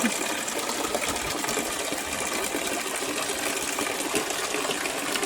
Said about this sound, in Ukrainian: Ось такий дощик у нас іде.